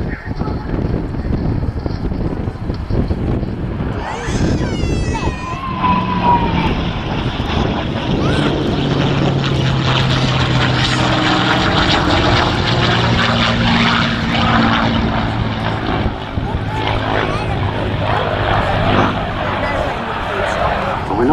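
A nearly original 1944 P-51 Mustang fighter drones overhead at RAF Cosford Air Show 2017, its propeller engine roar rising and shifting over steady wind noise while a commentator talks throughout.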